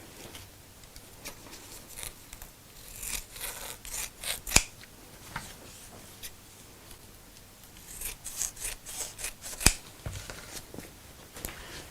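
Scissors snip through fabric for a sewn craft bag, a quiet close series of crisp cuts and rubbing slides with a couple of sharper clicks, and no talking.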